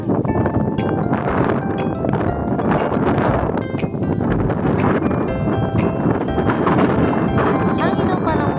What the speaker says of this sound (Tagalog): Hangin ang panahon ngayong araw.